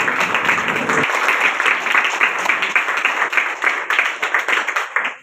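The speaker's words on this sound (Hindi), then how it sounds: "ताली बजती रहनी चाहिए।" A crowd of children claps steadily at a certificate ceremony for a Mithila painting program, the dense applause continuing loud and unbroken throughout.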